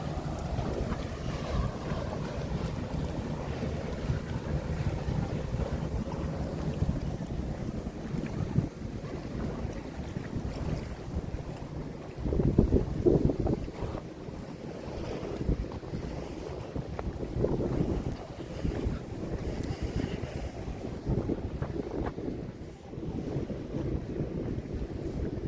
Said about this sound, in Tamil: இந்த இன்னும் ஒரு வாட்டர் டாக்ஸி ஒன்று போய்கொண்டிருக்கு.